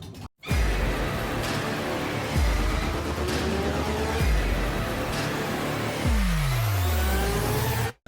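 Pickup truck hauling a Honda Shadow motorcycle strapped in its bed, engine droning steadily and rising in several repeated acceleration sweeps with gear changes, close and continuous, no voices.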